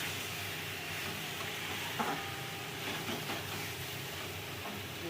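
Masala and potatoes are stir-fried in a pan. A low, steady sizzle runs throughout with soft scraping and stirring sounds from a utensil, faint and close, with no talking.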